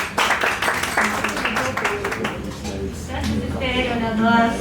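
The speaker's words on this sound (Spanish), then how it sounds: "les pido por favor un aplauso" A crowd claps and applauds for a few seconds, the clapping dense and steady, fading as a voice starts speaking.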